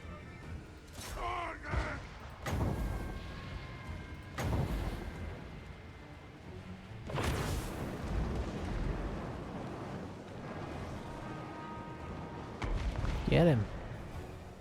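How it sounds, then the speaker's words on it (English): Cannons boom in a Total War: Warhammer 2 battle, several heavy blasts spaced across the scene over a rumbling backdrop, with a few sharper pops and screeches between them. "Looks like the cannon might be shooting at their leader."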